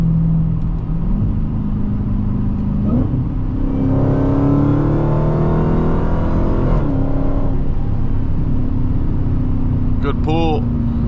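An 800 HP Dodge Hellcat accelerates hard from inside the cabin, its engine droning steadily and then rising in pitch through a strong pull before easing off, with a person talking over the engine noise.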